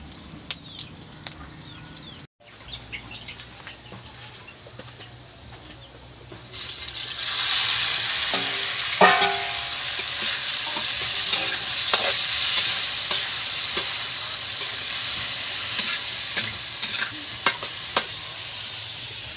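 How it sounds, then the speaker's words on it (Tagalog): Onion, garlic and octopus fry in a pan, a loud steady sizzle surging after a quieter opening and running continuously with occasional stirring clatter. "Yan, nakasalang na yung ating sibuyas, ahos. Nandito din ating kugita."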